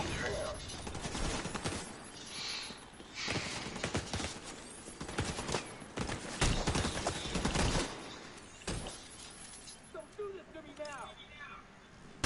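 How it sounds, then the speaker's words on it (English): Gunfire rattles through a squad match of The Division 2, with dense, repeated shots and bursts running steadily throughout, mixed with voices. "You got some people shooting at you there."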